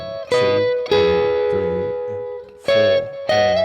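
Electric guitar plays the opening riff of a song, sustained ringing chords struck four times with a slightly overdriven tone, loud and close, no voices.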